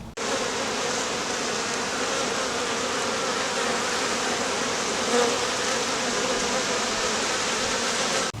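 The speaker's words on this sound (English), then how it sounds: "We got bees up under the lid here in our honey super." Honey bees crowd up under the lid of a honey super in a backyard apiary hive, making a steady, close, continuous buzzing drone with no voices over it.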